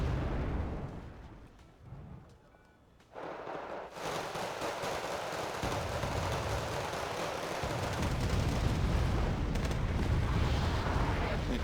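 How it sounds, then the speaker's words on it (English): Abrams tank fire support in the PC war game Wargame Red Dragon comes as a dense, continuous roar of heavy explosions and gunfire, loud and rumbling throughout with a brief lull early on. "As Abrams gives fire support."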